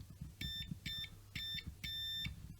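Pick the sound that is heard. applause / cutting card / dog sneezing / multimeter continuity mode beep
multimeter continuity mode beep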